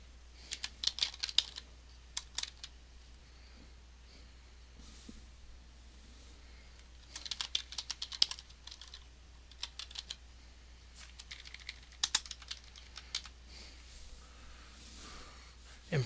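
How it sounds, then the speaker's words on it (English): Quiet, close tapping on a computer keyboard arrives in short bursts of rapid keystrokes separated by pauses, over a faint low hum. "In the search control panel text box, type create a restore point."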